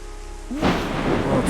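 Thunder crashes in a video game set on a mountain (SOS Incident), a sudden loud rumbling strike breaking in halfway through over steady rain hiss and continuing as a broad roar.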